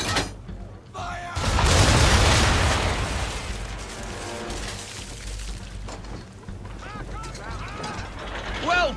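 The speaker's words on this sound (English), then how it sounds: "Bring around broadside, and when all guns are on target, call fire. Round shot for a start! Fire!" A ship's broadside of cannons firing round shot in Assassin's Creed III, a heavy booming volley swelling into a long rumbling roar, then creaking timbers and rigging as it settles.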